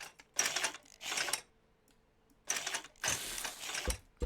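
Welding tool in the Scrap Mechanic video game, fired in two short bursts of bright, buzzing crackle separated by a pause, each burst lasting about a second and heard alone without talk.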